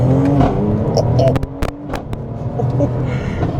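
A 2022 Mercedes-AMG GLC 43 launching hard in Sport Plus mode, its engine roaring loud and close with a rising, throaty pull, broken by a sharp crackle and shift before the strain resumes.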